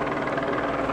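A helicopter's rotor thumps steadily overhead, a loud, continuous chopping roar with engine whine.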